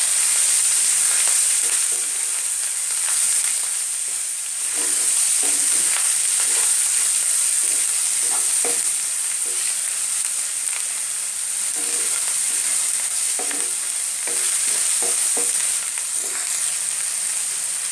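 Spice paste with ground coriander frying in oil in a pan for a village-style egg potol dorma, a loud continuous sizzle with intermittent scraping of stirring, close and without talk.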